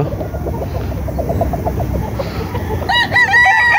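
Broodstag gamefowl roosters kept in a backyard crow near the end over a steady bed of flock clucking and rustling, with one loud close crow rising above the chatter.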